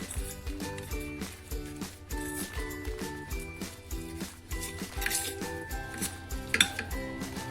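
Rhythmic clatter of a spoon stirring in a bowl as lemon juice is mixed into dhokla batter, steady repeated clinks and scrapes up close with no voices.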